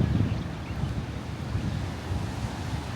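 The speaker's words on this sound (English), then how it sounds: "sprinkling and it's windy" Wind blows steadily over a rushing surf on the Road to Hana, Maui, with light rain; a low gusty rumble with waves washing in the background, no voices.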